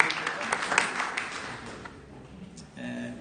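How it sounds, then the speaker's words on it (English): Light applause from a conference audience in Bologna, moderate and brief, thinning out after a second or two into quieter room noise with a faint voice near the end. "we can give an applause to Benedetta"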